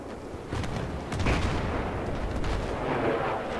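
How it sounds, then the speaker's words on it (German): Battlefield 3 gunfire during a Rush round of Operation Firestorm: a loud, dense burst of shots and booming artillery-like blasts that lands heavily after a quieter start and keeps crackling throughout, with no speech. "Oh shit, die schießen gerade auf uns."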